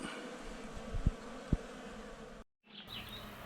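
Honey bees from a colony that overwintered on its own inside a barn buzz steadily during the cutout, a close, continuous hum broken by a few sharp knocks and a brief dropout.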